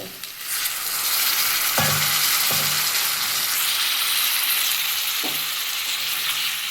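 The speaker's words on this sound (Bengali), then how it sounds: "দিয়ে আমি এটা ভালো করে এবার কষিয়ে নেবো" Papaya, potato and shrimp curry with spices and a splash of water being stir-fried in a pan, a steady loud sizzle with a few scraping stirs of the spatula throughout.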